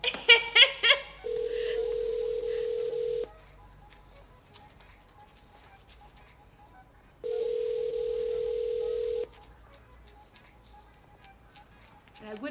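A telephone call goes out: a quick run of dialing beeps, then two long, steady ringback tones separated by a pause of quiet line hiss, with a faint noise at the very end.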